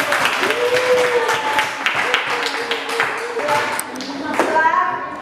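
A classroom group breaks into a round of clapping, a dense patter of many hands that holds steady for several seconds while voices talk over it.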